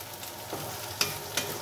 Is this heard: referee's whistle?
no